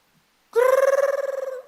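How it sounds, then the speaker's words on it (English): A phone alarm rings once at close range, a bright warbling electronic tone lasting about a second after brief silence, loud and alone. "Like my alarm is ringing now."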